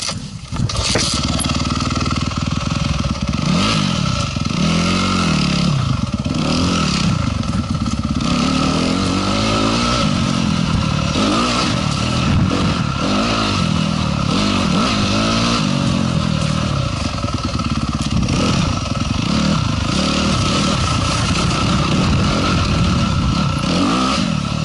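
Motorcycle engine running loud and close throughout a ride, a continuous rumbling drone whose pitch rises and falls as the throttle varies, with no talking.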